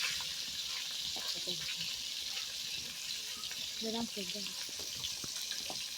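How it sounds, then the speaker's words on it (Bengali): Fish fries quietly in a pan in a village kitchen, a faint steady sizzle with scattered clinks and soft background sounds, no clear speech over it. "তো মাছটা ভাজা হতে থাক আপনারা দেখুন"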